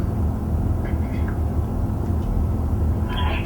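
A paranormal spirit box scanning a single bank gives off continuous, fairly loud static-like noise with a rapid, choppy pulsing texture and no clear words.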